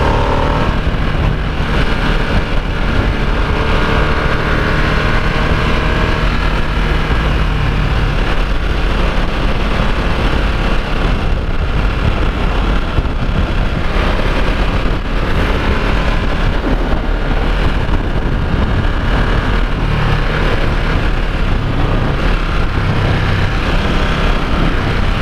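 Harley-Davidson Nightster motorcycle engine on the road, a steady loud drone with wind buffeting throughout, the pitch rising and falling slightly as the rider accelerates, with no talking.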